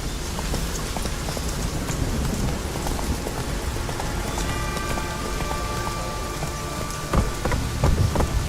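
Steady rain in The Witcher 3 under which the horse Roach gallops, with a brief burst of hoof thuds and movement near the end over a constant wet hiss.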